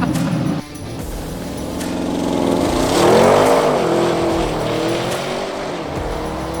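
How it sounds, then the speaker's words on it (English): An Audi RS6 spins all four tires, the squeal rising and wavering over a loud, straining engine during a quarter-mile launch, close and continuous with a sharp change near the start. "All 4 tires spinning away."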